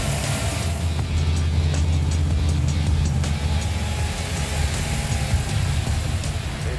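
A drag car's high-compression engine, 13.5-to-1, running with a steady deep rumble, close and loud with no break.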